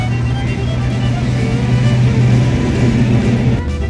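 A Pontiac GTO fitted with NOS idling and rumbling loudly nearby at a busy car show, a steady deep engine drone with crowd noise in the background.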